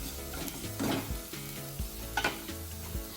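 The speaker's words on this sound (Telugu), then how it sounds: "ఈ విధంగా చిన్న చిన్న తరుక్కున్న టమాటోస్ కూడా వేసుకోండి." Chopped tomatoes go into a hot, sizzling pan for a potato curry and are stirred. Steady close frying hiss with scraping stir strokes, and no voices.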